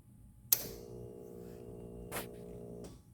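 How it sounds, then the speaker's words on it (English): The fuel pump of a Triumph T595 motorcycle gives a faint, steady electric hum, with a sharp click at the start and a couple of softer clicks later, in an otherwise quiet space. "If you could hear the fuel pump humming."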